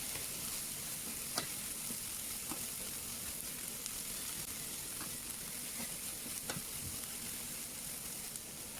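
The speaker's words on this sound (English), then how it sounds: "Now we will add some finely chopped lettuce. We'll let it cook for about a minute or two till the lettuce is softened." Finely chopped lettuce softens in a hot pan, making a soft, continuous sizzle with a few faint clicks of stirring. The sound is low in level and steady throughout.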